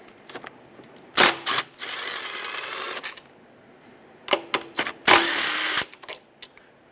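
Power tool backing out 10mm bolts and a stud on the intake manifold of a 2008-2010 Ford F250 Super Duty 5.4L V8, with two loud whirring bursts separated by clicks and ratchet-like taps, no talk.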